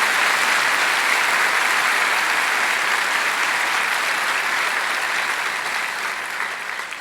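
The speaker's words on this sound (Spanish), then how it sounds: "Le damos la bienvenida al Señor con un fuerte aplauso a nuestro Rey" Church congregation clapping in a loud, dense, continuous round of applause welcoming the Lord at a Spanish-language service, holding steady and then tapering slightly at the end, with no talk over it.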